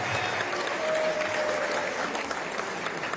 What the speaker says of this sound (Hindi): आपकी ताली से पता चल गया मुझे।